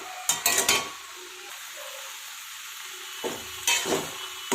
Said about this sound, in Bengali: এটা বারবার একটু নাড়িয়ে চাড়িয়ে দিতে হবে।